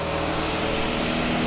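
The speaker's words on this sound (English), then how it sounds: "It's a very, very high idle, to say the least." A Triumph Dolomite engine idling far too high, around 2,500 RPM, a loud steady drone with a constant hum and no break, heard close and alone.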